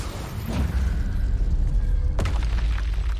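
Spell explosions in the Hogwarts Legacy video game, with a low rumbling blast early on and a sharp, loud burst near the end over a steady booming combat backdrop.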